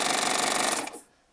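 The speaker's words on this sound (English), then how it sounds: "And with this Triumph serger," A Triumph serger sewing machine runs in a fast, rhythmic stitching whir that slows and stops after about a second, fading to quiet.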